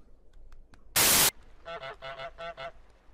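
The cartoon goose in Untitled Goose Game, a video game, honks four or five times in quick succession, each honk clear and close, after a sharp burst of static.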